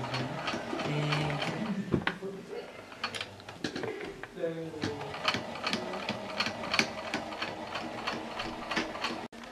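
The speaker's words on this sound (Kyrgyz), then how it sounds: "Бул кыздар тигип атат," Several sewing machines stitching quilts and fabric in a workshop run by a disability association, giving rapid mechanical rattling bursts with clicking pauses, while people talk in the background.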